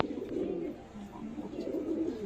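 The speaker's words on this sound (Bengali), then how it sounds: "এটা মাদা পায়রা।" A female pigeon coos softly and close by, a low, repeated rolling murmur that rises and falls in gentle waves against a quiet background.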